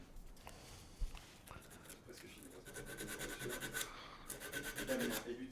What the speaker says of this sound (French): Et je vais y aller à l'abrasif, ce sera plus simple.